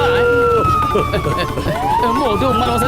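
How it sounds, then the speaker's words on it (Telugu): A wailing siren sweeps up and down loudly and close, with other voices and street noise mixed underneath. "పోలీస్ సైరన్ వినగానే నా కాళ్ళు వాటంతటా అవే పరిగెత్తాయి."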